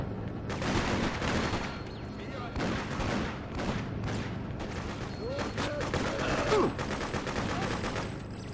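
A gunfire exchange in the Freedom Fighters video game, with repeated bursts and scattered shots crackling continuously at a moderate distance over several seconds.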